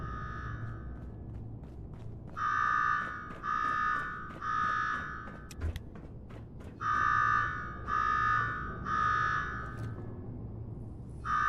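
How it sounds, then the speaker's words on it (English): An alarm blares in the video game Fallout: loud, repeated buzzing electronic bursts, three then three more, separated by short gaps, over low background rumble and faint footsteps. "Now go shut off that damn alarm."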